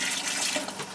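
Cold water runs from a tap into a sink aboard a sailboat, a steady close rushing splash filling the whole second without any voices.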